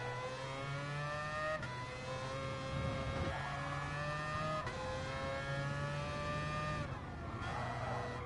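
A GR4 race car in a PS4 racing game drones steadily as the engine rises through the gears, with rhythmic shifts and a few faint squeals, and no voices.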